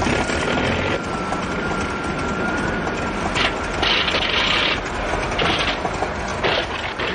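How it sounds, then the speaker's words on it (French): A failing aircraft engine in the Thunderbirds film rattles and grinds loudly and continuously. Clattering mechanical bursts flare through a dense, unbroken roar. "Le moteur est en train de nous lâcher."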